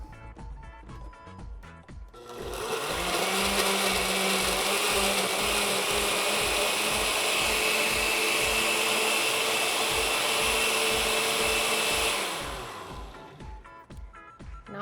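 An electric blender purees a sauce with about half a cup of water, starting after a couple of seconds, roaring loud and steady for about ten seconds, then winding down to a stop.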